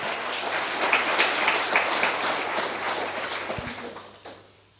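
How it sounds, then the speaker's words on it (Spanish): A church congregation applauds loudly and steadily for several seconds before the clapping fades out at the end, with no talk over it. "Fuerte aplausos, Iglesia del Señor."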